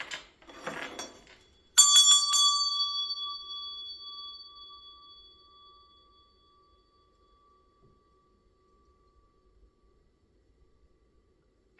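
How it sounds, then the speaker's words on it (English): A meditation bell is struck once with a clear, bright strike, then its ringing tone lingers and slowly fades over several seconds into near silence, following a brief rustle. "let me ring my meditation bell just to make sure the space is cleared out nicely"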